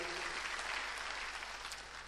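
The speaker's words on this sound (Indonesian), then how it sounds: "Tepuk tangan yang paling meriah buat Allah kita" An audience at a church service claps for God, a brief, steady roar of many hands heard alone at an even level.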